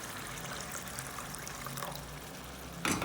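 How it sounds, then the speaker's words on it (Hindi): Hot water pours steadily into a pot of moong lentils in a continuous close trickle, ending with a brief louder splash. "अभी इसमें मैं डालूंगी पानी। ये पानी मैंने गर्म कर लिया पहले।"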